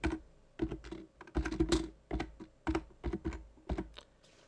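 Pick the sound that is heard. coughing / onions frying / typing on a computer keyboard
typing on a computer keyboard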